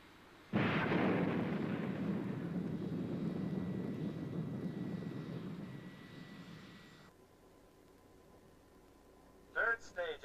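Rocket second stage engine firing after launch, a loud steady roar from the first half second that fades after about seven seconds, followed by a brief burst of different sound near the end.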